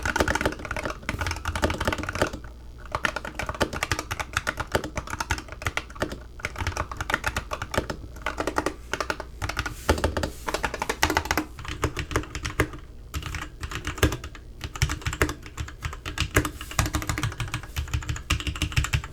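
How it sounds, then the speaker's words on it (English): Fast continuous typing on a Razer Huntsman Tournament Edition keyboard with linear optical switches, dense rapid clacks with brief pauses, close and clear with no voices. "let's lean in and take a typing test so you guys can hear what they sound like"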